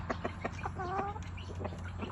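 Several hens cluck in short, repeated bursts on a poultry farm, one giving a brief rising call midway, over a steady low background hum.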